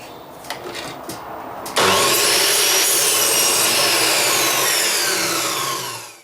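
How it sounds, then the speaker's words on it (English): A miter saw cutting wooden gate stiles bursts in loudly after a quiet start, holding a steady high whine through the wood for several seconds before winding down, close up with no talking. "using my miter saw, I cut the stiles to length"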